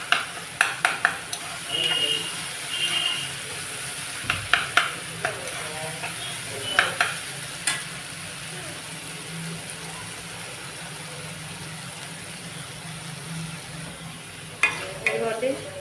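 Tomatoes, onions and ginger paste fry for rajma curry, a low sizzle under repeated scraping stirs that come in short bursts, with long quieter stretches in between.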